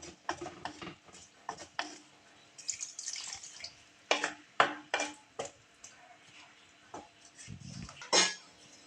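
Water is poured into a pot of breadfruit curry being cooked to cover the pieces, giving irregular close splashes and drips with clinks of the pot in between.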